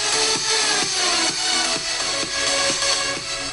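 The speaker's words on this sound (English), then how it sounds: "if you buy a very cheap 5-volt speaker with just these speakers, it will sound like this" Music plays through a cheap 5-volt USB-powered speaker with no woofer, sounding thin and bright with little bass, a steady beat pulsing at moderate loudness without any talking.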